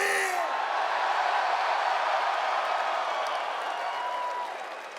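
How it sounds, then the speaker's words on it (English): A wrestling arena crowd at a TNA pay-per-view roars and applauds in a dense, continuous wall of cheering and clapping, steady and loud, fading slightly toward the end. "The crowd is a little bit louder here."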